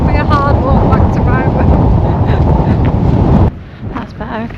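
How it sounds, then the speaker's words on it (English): Strong gusting wind buffets the microphone on an exposed hill path near Ryvoan Bothy, a loud continuous low roar that suddenly drops away near the end, leaving quieter breezy rumble. "The wind's gusting up there well in the 40s."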